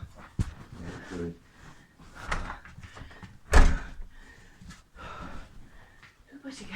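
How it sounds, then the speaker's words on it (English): A door is pushed shut with a single solid thud at a house while a pregnant rescued cat is carried in, set among close conversational voices and breathing. "Shut the door. Shut the door."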